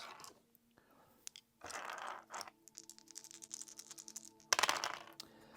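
Four dice rolled across a table during a HeroQuest board game: scattered clicking and rattling in quick bursts, faint and close, with a louder clatter near the end.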